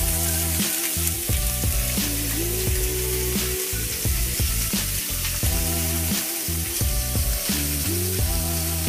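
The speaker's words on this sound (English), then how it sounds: "I'm going to start actually with the uh, asparagus. Turn this up. Until let's get that butter melting." Butter melting and sizzling in a hot pan with asparagus, a loud continuous hiss and crackle that stays steady throughout, close up with no voices.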